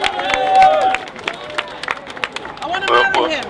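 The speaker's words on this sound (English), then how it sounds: "Please give a big round of applause to Brian Whelan." Rally audience at a Stop the Olympic Missiles community event applauds and cheers loudly, dense clapping mixed with crowd voices and shouts, swelling near the start and again toward the end.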